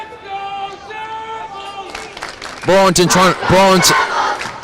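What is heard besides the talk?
hockey game crowd cheering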